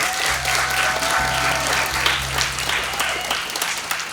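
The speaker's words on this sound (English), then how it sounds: "can we all give them a big round of applause?" An audience at a poetry night applauds the poets in a steady, moderately loud round of clapping, with a low hum and some murmuring voices beneath.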